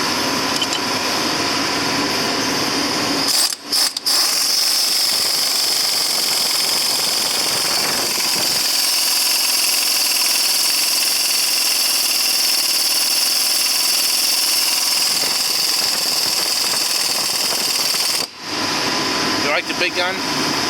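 Impact gun hammering away on a John Deere 6200 tractor, a loud sustained rattling drive running for most of the time with two short breaks, close by, with voices heard in the background.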